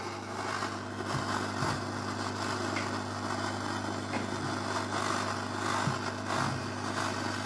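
A gas torch with an air blower for jewelry making, used for melting and heating metal, runs as a steady, close roaring hiss with a low hum underneath and a few brief flutters as the flow is turned up.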